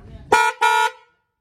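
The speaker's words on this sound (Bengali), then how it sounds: "এটা হর্ন" A vehicle horn honks twice in quick succession, loud and close, then silence.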